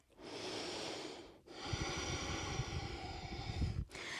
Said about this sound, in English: Few breaths here.